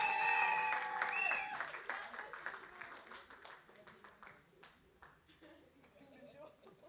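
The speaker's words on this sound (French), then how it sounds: "est-ce qu'on peut l'applaudir, s'il vous plaît, pendant qu'elle s'avance?" Wedding guests applaud as the ring bearer walks forward, light scattered clapping that follows a voice speaking at the start and thins out toward the end, with murmured talk underneath.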